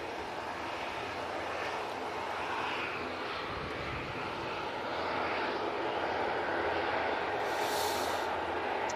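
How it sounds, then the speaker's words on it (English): Jet engines of an EasyJet airliner lined up for takeoff at Manchester Airport, a steady distant roar and rumble that swells slightly toward the end. "Easyjet lined up, ready to go. Off to Lisbon."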